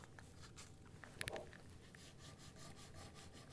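Soft pastel rubbed across paper gives faint, close scratchy swipes in a quick back-and-forth rhythm, with one brief sharper tap partway through.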